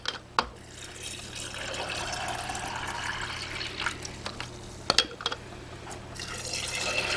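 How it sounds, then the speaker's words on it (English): Water pours into a canning jar of pinto beans, a continuous close filling and gurgling stream with a few small clinks and drips near the end, no talking. "I'm just going to fill it up with water to 1-inch headspace."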